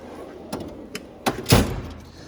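Metal drawer of a mechanic's rolling toolbox (power drawer) sliding open and shut, several short clunks and a final louder slam with rattling, close by and without voices.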